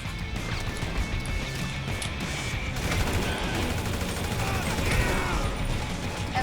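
Gang shootout gunfire in the video game Grand Theft Auto V, set around Sandy Shores: dense, continuous bursts of shots and mechanical clatter that run loud and steady throughout.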